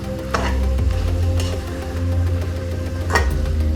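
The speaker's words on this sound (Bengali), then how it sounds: "ঢাকনাটা খুলে আবারও একটু নাড়িয়ে দেব। মাংস থেকে কিন্তু তেল ছাড়তে শুরু করে দিয়েছে" Mutton curry sautéing in oil in a pot while being stirred, a steady close sizzle with a low rumble underneath and a few scraping strokes of the spoon.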